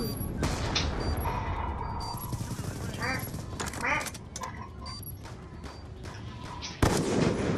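Dense gunfire and explosions from a Call of Duty Black Ops 2 multiplayer match, with rapid bursts and booms layered throughout and a sharp loud blast near the end, mixed with game voices.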